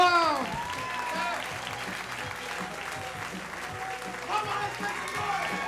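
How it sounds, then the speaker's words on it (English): A comedy club audience at the Ice House claps in a dense, steady round of applause, with a voice on a microphone speaking over it. "Give him a big hand."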